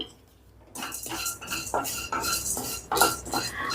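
Watermelon seeds being dry-roasted in a wok for daliya ladoo, stirred with a metal spoon in repeated scraping, clinking strokes up close after a quiet start.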